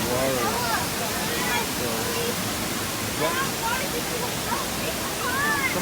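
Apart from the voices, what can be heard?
Looking Glass Falls waterfall near Asheville, North Carolina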